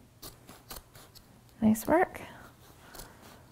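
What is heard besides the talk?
scissors cutting upholstery fabric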